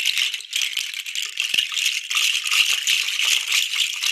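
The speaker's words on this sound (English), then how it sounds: "if the teachers want to get the rattles ready, we can do a little rattling together" A handheld rattle made from tree nuts is shaken steadily, a dense, bright clattering that runs continuously and loudly, alone without talk.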